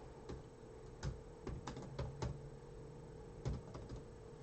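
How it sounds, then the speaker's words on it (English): Typing on a computer keyboard during a live stream, scattered sharp key clicks in irregular bursts, close but quiet over a steady background hum. "I think I'm typing in the box"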